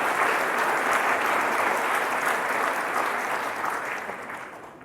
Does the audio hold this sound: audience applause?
yes